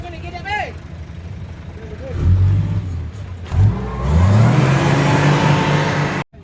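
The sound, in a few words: Suzuki Wagon R R06 engine running and revving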